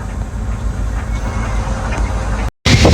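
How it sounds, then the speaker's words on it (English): A train rolls past near a roadside pickup spot in Sumas, Washington, by the Canadian border, as a steady low rumble and clatter that cuts off abruptly near the end. "There's your train for the day."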